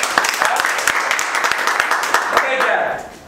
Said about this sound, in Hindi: एक बार इनके लिए फिर से जोरदार ताली बजाओ।